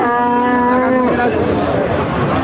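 A cow at the Chougachha cattle market in Jashore district lets out a loud, close moo lasting about a second, followed by general market noise.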